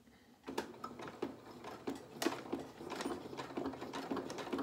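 A sewing machine stitches a small doll's shirt in short, quiet runs of rapid needle ticking that start and stop.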